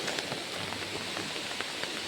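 Steady rain falls during the monsoon season, making an even, close hiss of drops on surfaces that lasts throughout without pause.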